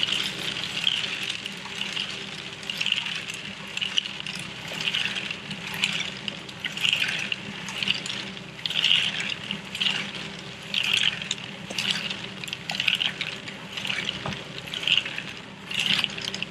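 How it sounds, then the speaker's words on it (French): Water poured and splashed onto a stone wall to dampen it during a renovation with lime and pozzolan slab work, a steady wet trickling with repeated splashy bursts close by, no voices. "Allez, on humidifie un peu."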